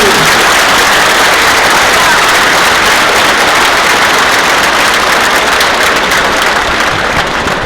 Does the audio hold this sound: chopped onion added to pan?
no